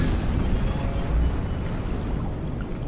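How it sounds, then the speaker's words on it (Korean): Engine of a sinking vessel in the BioShock video game, a loud, dense, continuous roar with deep rumbling and churning water-like noise and no talking. "저건 엔진인 것 같고요"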